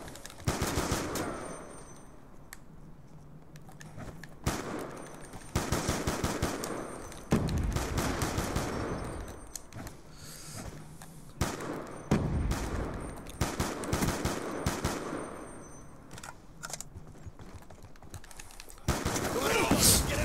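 Light machine gun fire in Black Ops 2 multiplayer, rapid sustained bursts of automatic shots that start and stop in clusters, loud and close over game ambience, with scattered shorter pops in between.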